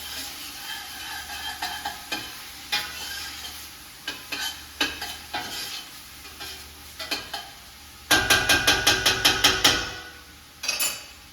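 Onions for meatballs fry in a pan with a soft sizzle beneath repeated sharp utensil taps and scrapes, ending in a quick burst of rapid clatter before a final knock.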